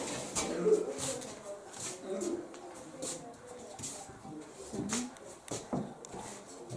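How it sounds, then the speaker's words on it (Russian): Pigeons coo softly by a rural house with a Russian bread oven on a rainy day. The low, repeated calls come amid faint shuffling and background noise. "Они воркуют."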